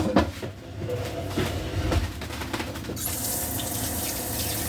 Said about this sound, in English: Let me get this in the sink and get some of that butter off my fingers.